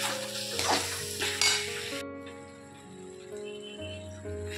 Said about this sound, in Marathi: तर मसाला चांगला परतला गेला आहे।